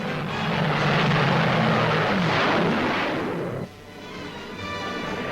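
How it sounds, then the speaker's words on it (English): Jet fighter planes fly over an airfield at about 500 miles an hour, making a steady, loud, broad roar for several seconds that cuts down sharply to a lower rumble. "Gun cameras photograph the airfield as the jet planes, capable of more than 700 miles an hour, are held down to about 500"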